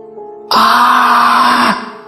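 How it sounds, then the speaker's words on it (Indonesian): A sudden loud, high-pitched scream bursts out and holds steadily for about a second before cutting off, with faint sound beforehand. "Kembali terdengar suara teriakan."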